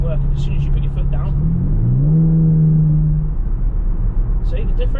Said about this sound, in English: you can barely hear the engine working as soon as you put your foot down